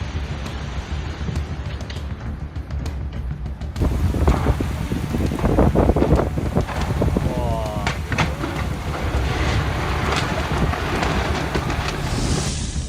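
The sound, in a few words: strong wind blowing in Turkey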